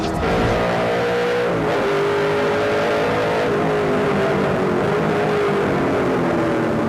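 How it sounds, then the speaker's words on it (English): A NASCAR race car engine with a motor problem during a 2008 GP3R 100 race, running rough and down on power, its loud droning tone wavering and dipping steadily, heard from on board. "there you can hear making some funny noises. It's out of power, not running really well. I believe that's a motor problem"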